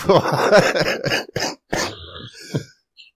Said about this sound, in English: I shouldn't cough like that